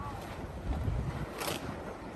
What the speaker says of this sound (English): you can see how windy it is. Very windy right now.